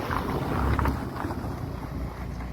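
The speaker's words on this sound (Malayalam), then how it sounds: "ഇവിടെ നല്ല തണുത്ത കാറ്റുണ്ട്." Cold wind blows outdoors at the Talakaveri hilltop, a steady rushing buffet across the microphone with low rumbling gusts and no voices.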